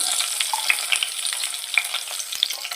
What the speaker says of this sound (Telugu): పెనం పెట్టుకొని ఆయిల్ వేడెక్కిన తర్వాత ఎండ్రైలు వేసేసుకుందామండి